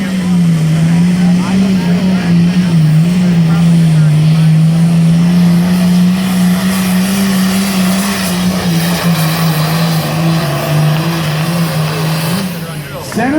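A turbocharged semi truck tractor fed ether at a truck pull roars at full power in a loud, steady drone with a sustained low growl throughout, briefly easing near the end.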